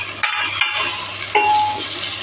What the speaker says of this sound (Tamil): கொஞ்ச நேரம் காய் வதங்கணும்